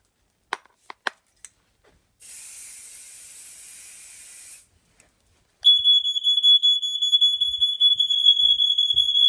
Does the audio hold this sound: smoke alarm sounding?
yes